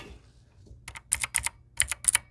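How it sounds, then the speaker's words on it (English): Fingers type on a clicky mechanical computer keyboard, a quick burst of sharp, close keystrokes in small uneven clusters, loud against an otherwise quiet room. "Let's get a keyboard sound test. Keyboard sound check."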